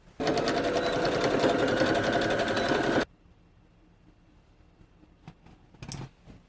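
A sewing machine stitches the lining of a duster jacket in one fast, continuous burst of about three seconds, followed by quiet handling clicks.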